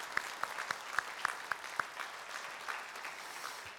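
Church congregation clapping during a Sunday service: a brisk patter of individual claps, distinct at first then blending into a softer, denser wash, moderately distant and quiet.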